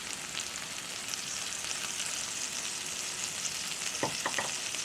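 Oklahoma-style onion burger frying in a pan with a steady, fairly loud broadband sizzle throughout, a few brief scraping or stirring knocks near the end, and no voices.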